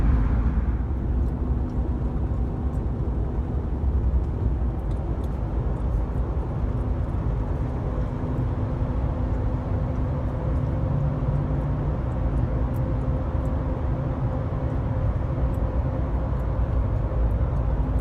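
A 2019 RAM Rebel pickup truck drives through a lit tunnel, its steady low engine and road rumble heard from inside the cab, constant and even throughout with no talking.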